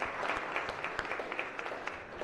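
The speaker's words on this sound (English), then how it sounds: "Can we give them a round of applause?" A round of applause rises in a Senate chamber for visiting schoolchildren in the gallery. Moderate clapping from a modest crowd, with a few sharp individual claps standing out against the steady patter.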